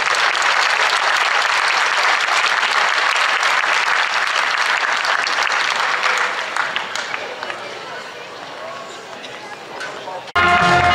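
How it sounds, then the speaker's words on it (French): An audience applauds medal winners at a French sports awards ceremony, with loud, sustained clapping that thins slightly toward the end before a sharp new sound cuts in. "On les applaudit bien fort."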